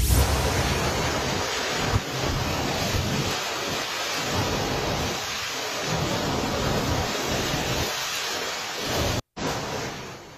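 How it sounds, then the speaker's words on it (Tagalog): Typhoon Leon lashes Batanes with roaring wind and heavy rain, a loud continuous rushing wall of noise with surging gusts and microphone buffeting, and no voices. "malakas na buhos ng ulan na sinabayan ng umuugong na hangin ang humagupit doon"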